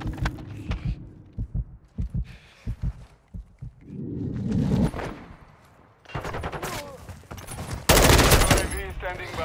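Gunfire in Call of Duty, scattered thumping shots early, then sustained loud bursts of rapid automatic fire toward the end, with game voices and radio chatter in between.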